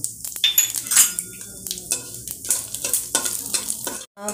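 Panch phoron, whole mustard seeds and dried red chilli frying in hot mustard oil, making a loud, close crackling sizzle with bursts of popping and metal spoon scrapes against the pan.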